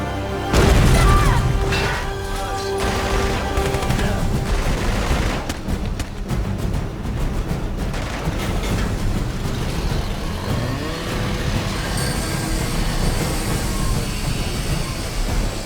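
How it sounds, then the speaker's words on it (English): A big explosion in a Superman fan-edit, a loud opening boom followed by sustained rumbling blasts and dense debris-like noise that stays heavy throughout, mixed with orchestral score. "And then we go to the big explosion."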